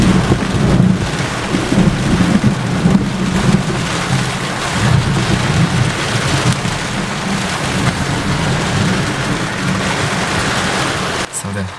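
Florida thunderstorm during storm chasing, with a loud continuous roar of heavy rain and low rumbling thunder throughout, close and dense, cutting off sharply near the end.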